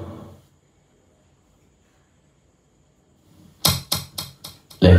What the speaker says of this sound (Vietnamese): Đây là tiếng reverb của nó này.